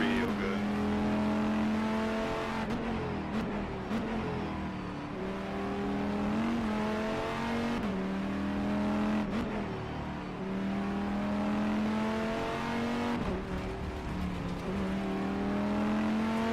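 GTE race cars lapping Sebring in the rFactor 2 racing game, engines droning and revving steadily through gear changes with brief shifts and downshifts, while someone talks over the engine sound throughout.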